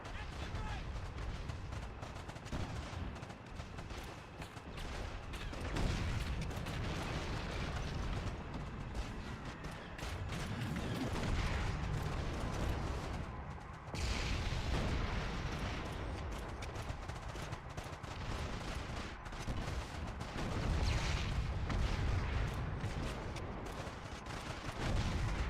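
Sustained wartime battle gunfire in Call of Duty 2: Big Red One on PlayStation 2, a dense continuous din of rifle shots and blasts throughout, with shouted voices mixed into the chaos.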